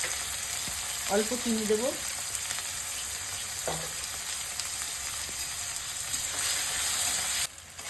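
Chopped onion and tomato fry in hot oil in a pan, a steady close sizzle and hiss throughout while someone speaks briefly over it.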